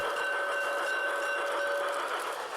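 A garden-scale model railroad train on a patio layout runs along the track, a soft steady rolling hum with a couple of faint sustained tones from the locomotive, close by and without talk.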